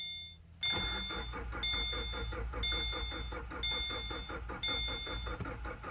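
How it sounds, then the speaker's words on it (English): A car engine cranks at -11°F with the gas pedal held to the floor for a clear-flood start: a sudden onset of rhythmic starter chugging that repeats steadily, with a whining tone over the top, close and loud. "Clear flood method is where you start the car with your foot on the floor of the pedal here."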